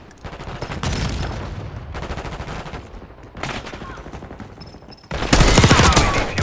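Gunfire in Call of Duty Black Ops 6: loud bursts of automatic fire and repeated shots in several volleys, ending in an especially dense, heavy barrage, with no talk heard.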